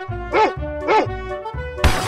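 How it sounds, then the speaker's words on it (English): A dog in a cartoon animal guessing game barks loudly and close in two clear woofs, followed by a crash-like burst at the end. "Dog."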